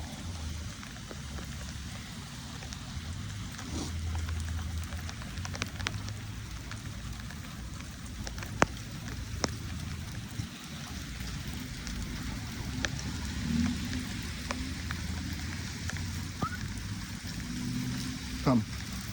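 Steady rain falls outdoors during a walk with a dog, a continuous soft patter with scattered sharper drops and a low rumble underneath, with no talking.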